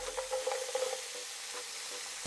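Dried shrimps sizzle in hot oil in a pan, a steady moderate hiss with light crackles and a brief clunk at the very end, no voices.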